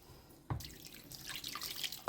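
Water poured into a bulgur stuffing mixture for stuffed peppers with minced meat: a short, faint trickle and splash that starts with a soft splat and is close by.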